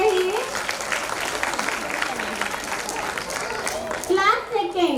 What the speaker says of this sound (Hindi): पेरेंट्स प्लीज तालियां बजाते रहिए।